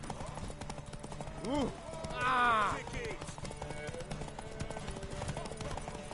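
Horse hooves clip-clop in The Witcher 3, a continuous trotting rhythm under loud game voices, with a shout and a brief horse whinny over the hoofbeats.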